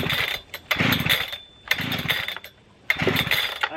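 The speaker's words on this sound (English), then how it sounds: "So it just doesn't want to start." A brand-new Husqvarna 3120xp chainsaw that will not start, heard close up as several loud, short sputtering engine bursts separated by brief pauses, each dying out instead of catching.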